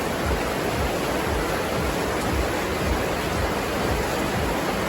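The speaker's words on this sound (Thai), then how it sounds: "ฝนตก พี่น้องเลย" Rain pours steadily outdoors near a forested hillside, a dense even hiss that stays loud and unbroken throughout.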